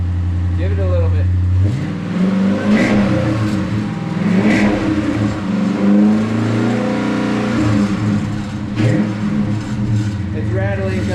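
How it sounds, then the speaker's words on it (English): A Hemi Challenger's V8 is revved repeatedly, up and down, with its exhaust removed so it rattles loudly close by, while people talk excitedly over the engine. "Hemi Challengers that sound great"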